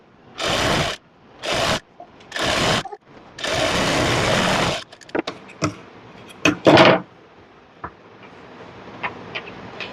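A sewing machine stitches a seam on a small baby dress in four quick, loud bursts of whirring, followed by scattered clicks and taps as the fabric is handled.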